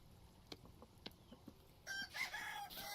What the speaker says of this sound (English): I love hearing the roosters and the chickies.